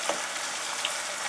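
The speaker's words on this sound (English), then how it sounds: "So we're frying the fish with the onions." Fish and onions frying in a pan for a Ghanaian okra stew, giving off a steady, close, bright sizzle with a few small pops and no talk.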